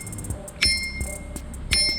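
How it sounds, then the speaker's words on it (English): The stock bell on an Ariel Rider X-Class e-bike rings twice, each a sharp, thin, bright ding about a second apart, close and clear over faint background noise. "It does have a bell that comes with it."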